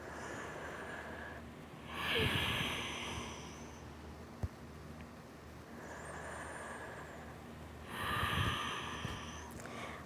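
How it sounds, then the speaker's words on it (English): Slow, deep breathing during a yoga back stretch, with two broad, airy inhale-exhale swells a few seconds apart, close and fairly quiet against a low steady hum. "Take about 3 more breaths."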